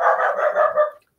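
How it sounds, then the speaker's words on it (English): A dog barks in a continuous burst of loud, close barking, with a brief sharp sound at the end after a moment of quiet. "Nor is the postman, which is the reason that the dog is barking."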